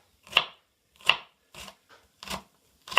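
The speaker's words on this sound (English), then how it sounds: "you then repeat the process of slicing it one way and then the other" A knife slices through a tomato on a cutting board, five crisp separate chops spaced about evenly, close and fairly loud, with brief silence between strokes.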